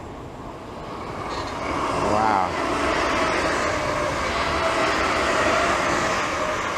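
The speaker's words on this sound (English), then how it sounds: "Train overhead." A train rumbles overhead in the British countryside, a broad steady roar that swells after a couple of seconds and holds, with a brief exclamation from a voice.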